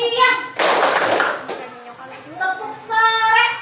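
A class of children clapping in a rhythm game, a brief burst of hand claps in the middle framed by a teacher's singing voice before and after.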